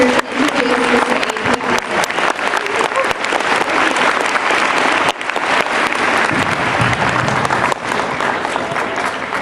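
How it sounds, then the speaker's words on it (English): A middle school audience gives a speaker a round of applause at his introduction, loud sustained clapping from a large crowd, close and dense, holding steady for several seconds with faint voices mixed in. "Please give a round of applause"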